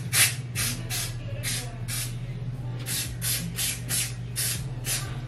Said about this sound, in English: using a hairspray.